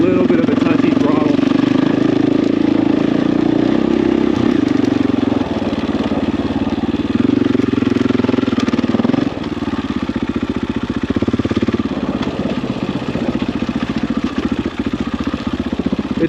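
A 501 dirt bike with a slightly touchy throttle rumbles steadily on an Idaho trail, its engine note fairly loud and close, with brief dips and surges in the throttle.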